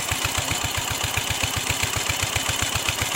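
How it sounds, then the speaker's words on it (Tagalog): A diesel engine drives an irrigation pump in a rice field, thumping in a fast, even rhythm of steady pulses close by, running alone without voices. "Bumili na tayong diesel. Andar natin yung makina."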